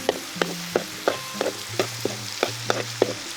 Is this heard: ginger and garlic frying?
yes